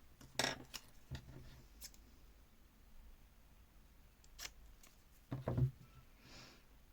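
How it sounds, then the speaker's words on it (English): Scissors cut a small piece of lace in a quiet room, making a few faint, scattered snips and one louder double snip near the end. "You know, I'm not great at cutting with scissors"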